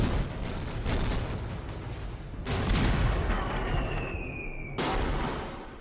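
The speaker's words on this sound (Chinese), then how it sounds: "开始与镇远、经远等舰一起炮轰联合舰队旗舰松岛" Naval artillery barrage against the flagship Matsushima, a sustained roar of heavy gunfire and explosions in overlapping waves, loud and close, with a brief whistling tone cutting through before another blast.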